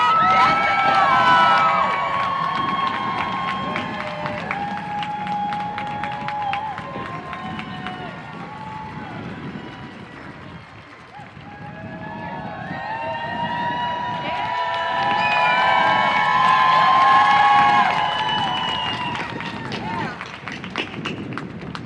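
A large crowd at a public education rally on the steps of a state capitol cheers and claps continuously, a dense roar of voices and applause that swells and dips before building again.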